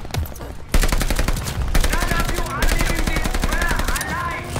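Sustained automatic gunfire in the Call of Duty: Vanguard video game, rapid dense bursts laying down cover fire, loud and continuous with only brief breaks.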